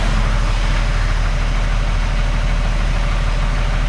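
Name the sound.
Cummins diesel truck engine spooling up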